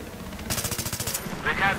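Rapid automatic gunfire in Battlefield 3, a burst of about a dozen evenly spaced shots from a low-recoil gun, fairly close and loud, with game background noise around it.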